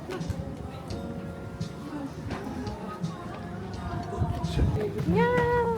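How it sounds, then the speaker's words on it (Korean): A cat meows a few times near the end, rising and falling, over a busy indoor background of shuffling and faint chatter in a gift shop. "고양이."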